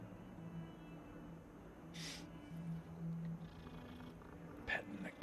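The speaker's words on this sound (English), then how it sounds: "Petting the cat, petting the cat." A cat purrs softly while being petted in the Hogwarts Legacy video game, a faint steady low rumble with a couple of brief brighter rustles, and no talking over it.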